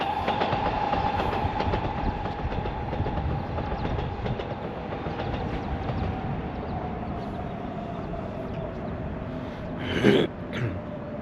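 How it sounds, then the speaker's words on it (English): A metro train pulls into a station, its loud continuous roar mixed with rattling wheels and a slowly falling whine, with a short sharp burst near the end. "every 5 or 6 minutes, I think another train pulls into station"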